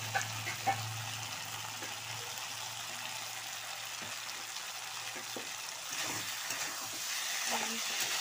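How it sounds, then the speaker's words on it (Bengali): Spice paste frying in a pan, a steady low sizzle and crackle close by with a few faint scrapes, fairly quiet and even throughout. "মশলাটা আমার ভাজা হয়ে যাচ্ছে।"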